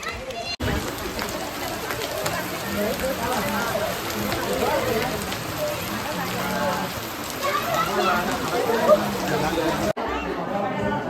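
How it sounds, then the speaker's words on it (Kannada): Heavy rain pours steadily at a rock garden in Kittur, a dense continuous hiss of drops on surfaces, with people chattering beneath it throughout. "ನೋಡ್ರಿ ಮಳಿ ಭಾಳ ಬಂತ"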